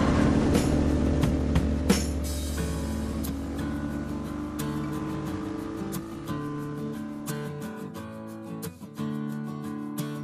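An Avantis Enduro motorcycle rides along a road on a long trip, its engine humming in a steady, fairly loud drone that varies slightly in pitch, with brief wind buffets and no talking.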